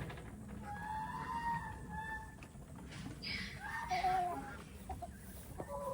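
Backyard chickens cluck and call in short, irregular bursts close by, with a voice speaking at times among them.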